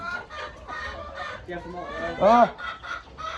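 Chickens on a farm with around 600 birds cluck steadily and close up in a dense chorus, with one louder squawk near the end and a person speaking over them.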